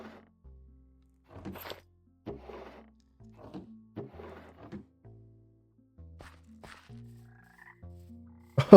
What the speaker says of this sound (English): It's the little frog mod with Ribbit.